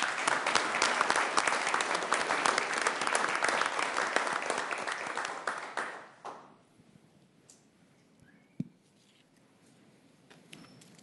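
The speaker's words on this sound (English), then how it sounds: "Let's give them a round of applause, please." Audience at a Sioux Falls city council meeting applauds loudly for about six seconds, the clapping then tapering off into a quiet room with a few faint knocks.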